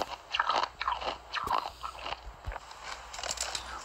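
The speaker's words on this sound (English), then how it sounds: "Yes, crunch it." Crunchy food being bitten and chewed close to the mic for ASMR, with a series of sharp, irregular crunches and bites spread across the moment, no talking.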